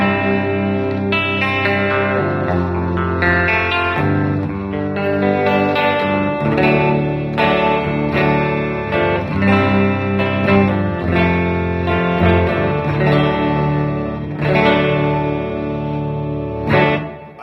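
Electric guitar played clean through a Bugera V22 all-tube amp on the bright input, warm full chords and single-note lines with reverb, loud and steady for the whole stretch with no talking.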